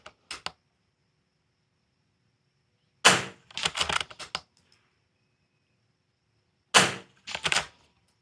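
Rifle shots at a .22 rifle match, a few sharp close cracks with metallic pings and rattles after them, separated by silence.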